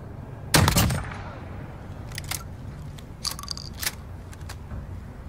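Sniper rifle gunshot in a video game, one loud sharp blast with a decaying tail early on, followed by faint clicks and clinks of the weapon over low background noise.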